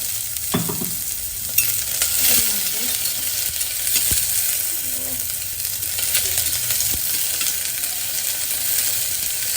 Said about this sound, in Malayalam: ഉള്ളി അതുപോലെ തന്നെ വേപ്പിൻ്റെ ഇലയും ഇടാം